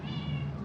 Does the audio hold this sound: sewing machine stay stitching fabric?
no